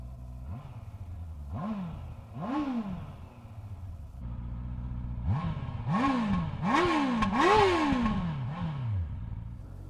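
A Honda CB650R motorcycle engine runs at idle and is blipped repeatedly, with several sharp throttle rises and falls. The revs come in quick succession toward the end, sounding loud, close and aggressive.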